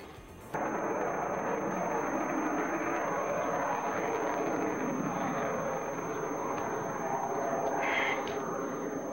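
An F-18 jet of the Blue Angels flight demonstration team roars by low at an air show, a loud broadband roar that bursts in abruptly and holds steady and powerful to the end.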